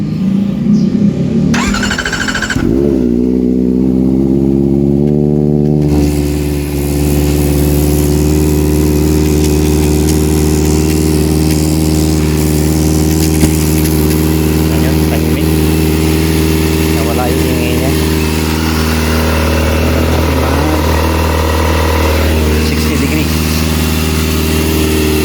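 Kawasaki ZX-4RR motorcycle cold-starting with a loud noisy engine, catching after a short crank and settling into a steady, strongly tonal idle that runs continuously at close range, with occasional light blips in revs.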